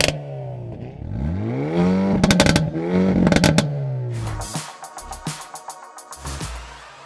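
A Hyundai i30 N hot hatch with a dual-clutch gearbox and no petrol particulate filter barks through a series of sharp, loud exhaust revs that rise and fall. Crackles and pops follow close up as the revs drop away.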